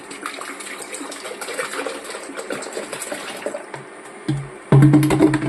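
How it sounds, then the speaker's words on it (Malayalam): Water poured into a ground coconut paste in a cooking pot for a smashed jackfruit seed and moringa leaf curry. It gives a steady gushing, splashing stream that turns louder and fuller near the end as more water goes in. "കുറച്ച് വെള്ളം കൂടെ അതിനകത്ത് ഒഴിച്ച്"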